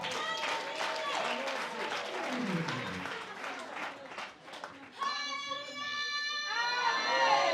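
Clapping from a congregation at a Rwandan church service rises as the preacher calls for applause, a scattered wash of hands under voices and children's chatter, with a sung or shouted tone near the end.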